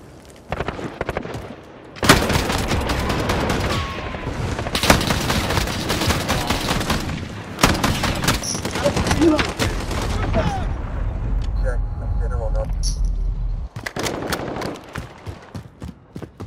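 Gunfire rings out in a video game as bursts of sharp, loud shots and rapid fusillades in several clusters, with players talking at times between volleys.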